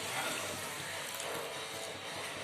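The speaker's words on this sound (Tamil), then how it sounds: "அதுக்கப்புறம் பால், ஒரு 1 கிளாஸ் பால் ஊற்றணும்." A glass of milk is poured steadily in a kitchen while making coconut laddu, a continuous close liquid rush with no pauses and no talking.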